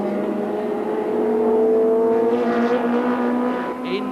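A Chevron DFV sports racing car at Brands Hatch during a 1985 Thundersports race, its loud sustained engine note rising and holding as it passes close by, with steady tonal harmonics over several seconds.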